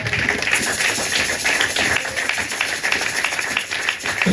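A church congregation claps in praise during a Sunday service, a steady rhythmic clapping with light taps that carries on throughout at moderate loudness.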